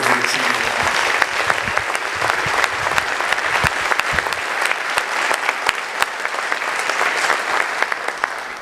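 Sustained applause from an audience at a police and citizens award ceremony, dense steady clapping filling the room throughout, with faint voices mixed in.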